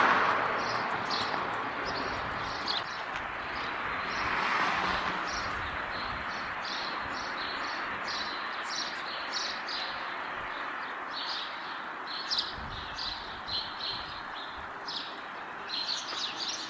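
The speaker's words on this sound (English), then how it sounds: "all the birds are twittering" Many small birds twittering and chirping in quick bursts around an old building with uneven roof timbers in Great Britain, over a steady outdoor hum and a brief rush of noise midway, no talking.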